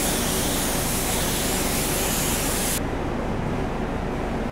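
Spray gun hissing steadily as it lays paint onto a spray-out card while prepping a Honda Civic Type R for paintwork; a loud, continuous broadband spray that cuts off abruptly near the end, leaving a softer hiss.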